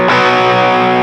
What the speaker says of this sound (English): the pickup is switched to the bridge, some distortion goes on at the same time